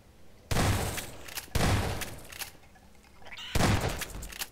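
Three loud, close shotgun blasts in Half-Life 2's Ravenholm, each a sharp boom that tails off into a roomy decay, spaced roughly a second apart with quieter clatter between.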